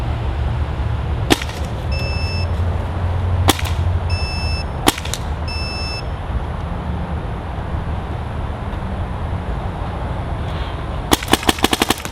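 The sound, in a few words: high-pressure air gun shots over chronograph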